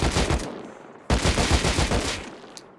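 Automatic gunfire in the game Rust, two sustained bursts of rapid, evenly spaced loud shots with a short gap between them, each ending in a fading tail.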